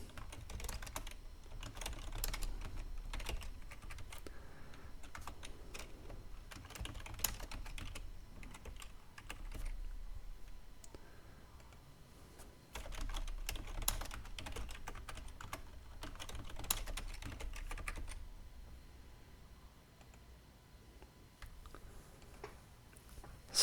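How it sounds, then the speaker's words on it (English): Username keystrokes typed on a computer keyboard in bursts of rapid, steady clicking with brief pauses, close and clear with no talking. "And type in a username."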